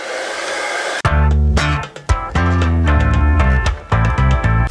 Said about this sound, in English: All you need is a hairdryer.